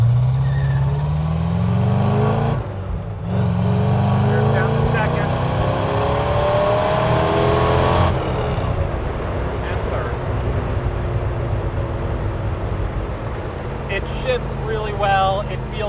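A 1966 Chevrolet Corvette Stingray with a 427 big block V8 driving, the engine droning and rising in pitch through the gears, then dropping after a shift, loud and close from inside the car, with someone talking over it.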